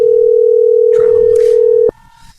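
A loud, steady telephone tone sounds on a call, holding one pitch for almost two seconds before cutting off abruptly, followed by faint background noise.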